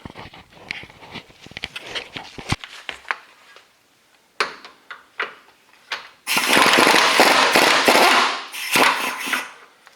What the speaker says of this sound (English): now we're going to zip out the 17mm nut down here